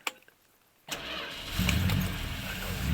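A Bristol 409 V8 engine cranks briefly and catches, then settles into a loud, rumbling idle that swells slightly, heard up close with no talking.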